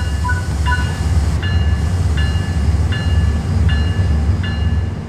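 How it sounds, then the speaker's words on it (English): Heavy diesel freight train rolling steadily in the Train Sim World 3 simulator, an ES44C4 locomotive hauling coupled freight cars through a training yard, with a constant low engine rumble and several short high electronic chimes, no talk. "move the train forward into the indicated siding"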